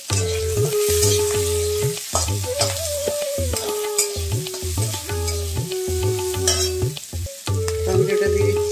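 Coarsely cut onions and a green chili fry in a pan for malai dahi paneer, with a steady close sizzle and repeated stirring scrapes throughout.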